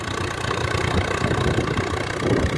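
A Swaraj 744 tractor hauling a heavy load engine runs at a steady, throbbing idle, close and continuous with a low mechanical rumble and no talk.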